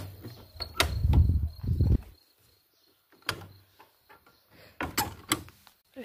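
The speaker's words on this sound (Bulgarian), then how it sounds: "Ето тук е вратичка." A small door at a monastery church opens with a few knocks and creaks near the mic, then a burst of low rumble as it swings. Scattered clicks and thuds follow, with insects and birds faint in the background.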